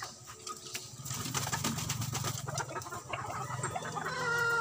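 Chickens cluck and coo at a feeding in a fighting-cock farm's pen, with dense overlapping bird calls throughout, fairly close and steady, no voices present.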